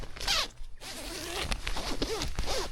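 A zipper runs along the door of a hot tent during winter camping in freezing heavy rain. Several quick, close zipping strokes come in bursts, with a brief pause early on.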